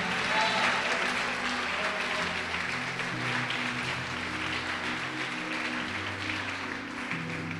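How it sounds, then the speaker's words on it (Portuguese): Congregation applauding during a church sermon, a sustained, dense roar of clapping from a large crowd, with voices and low tones of music or cheering blended beneath it. "Pode aplaudir o Senhor Jesus e glorificar."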